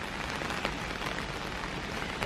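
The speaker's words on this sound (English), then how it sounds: "I am very grateful for the rain" Rain falls in an urban cottage garden in the Boston area on Labor Day, collecting on outdoor cushions, a soft, steady patter of drops close by and fairly quiet, with no talking.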